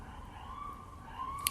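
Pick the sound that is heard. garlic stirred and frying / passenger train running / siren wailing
siren wailing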